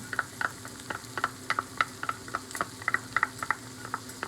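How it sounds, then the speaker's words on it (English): Ketchup being stirred into cooked ground meat in a pan with the stove off, a rhythmic series of close, sharp spoon scrapes and taps against the pan over a faint background hum. "You can go ahead and turn off the stove because you're just going to mix in your ketchup"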